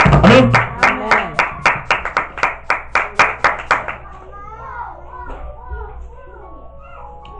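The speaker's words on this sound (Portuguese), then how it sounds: "Dá uma salva de palmas de Jesus" Congregation clapping in church, a run of about fifteen loud rhythmic claps in steady time that stops abruptly, followed by scattered voices and children's chatter in the room.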